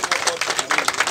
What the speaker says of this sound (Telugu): చప్పట్లతో